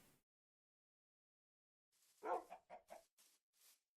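Minecraft wolves give a quick string of about five sharp barks after a short yip, close and alone in the game world.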